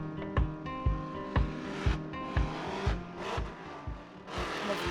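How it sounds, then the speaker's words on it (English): A drift car's engine at Formula Drift Orlando, with a missed shift into fourth gear, revs in repeated loud pulses with steady rhythmic thumps, the exhaust note rising and falling as it fights on the banking. "I missed my shift into 4th gear"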